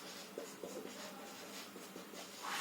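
Marker or chalk strokes on a classroom board, a series of short scratchy rubbing strokes in a quiet room, soft and close.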